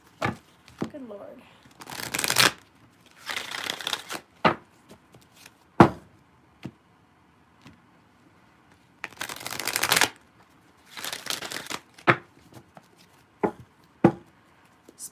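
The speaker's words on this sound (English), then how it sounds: "Quite the shuffle today." Tarot cards are shuffled in several loud riffling bursts, each lasting under a second or so, with quiet gaps and sharp taps between them where the deck is squared.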